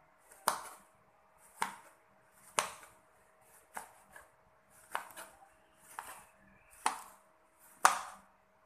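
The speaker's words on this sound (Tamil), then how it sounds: "கொஞ்சம் மீடியம் சைஸ் இதை கட் பண்ணி எடுத்துக்கலாம்" A knife cuts ridge gourd into medium pieces on a board, about nine crisp, separate chops at a slow, steady pace, close and fairly quiet, with silence between strokes.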